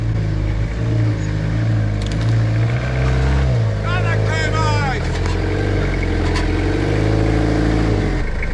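A Toyota Hilux on Kumho MT71 mud-terrain tyres crawls over wet tree roots in soft bush ground. Its engine keeps up a loud, steady low drone throughout, with a short whining sweep rising and falling midway.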